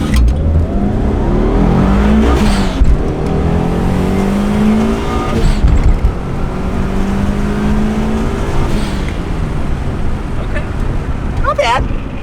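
A Mitsubishi Evo I on its stock turbo launches and accelerates hard, its engine roaring loud and close as it climbs through the revs and shifts, with a brief tire squeal near the end and people talking inside the car.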